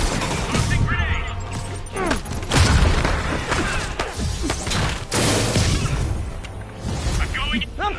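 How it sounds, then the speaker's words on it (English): Grenade blast amid combat in the Spider-Man PS4 video game against hostile Sable agents: repeated heavy booms and crashing impacts with gunfire, loud and close, while voices shout over the chaos. "Tossing grenade!"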